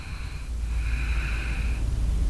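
During a Vinyasa yoga lesson, a person takes a slow, audible breath through the nose, a soft airy rush with a faint whistle lasting over a second, close and steady over low room rumble.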